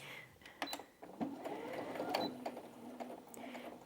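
A Brother Innov-is A16 sewing machine runs a straight stitch through thick denim, a faint, quick mechanical whirring broken by light clicks and knocks, heard close with no talking.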